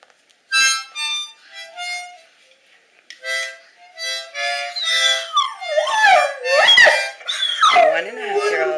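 A Rottweiler howls and whimpers in rising, wavering tones along with a toddler's thin, reedy harmonica notes. The playing comes first in short bursts, then the dog's voice joins and grows louder and more sustained toward the end.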